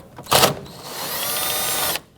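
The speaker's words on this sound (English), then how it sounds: "we're going to go ahead and remove the 3 10mm bolts securing the air filter box" A power tool spins out a 10mm bolt on the air filter box of a 2011-2015 Kia Sorento, giving a short loud burst and then a steady close whirring drone that stops abruptly.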